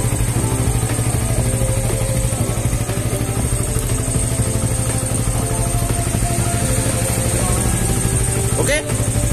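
A Honda CB150R motorcycle with an overheating regulator and battery runs loud and close in a steady, dense engine drone with little change in pitch.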